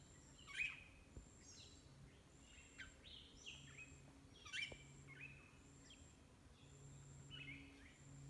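Birds sing in a St. Croix rainforest, with repeated chirps and short whistled phrases scattered through the clip. The calls are fairly faint and distant, set over a soft insect hum, and no one speaks.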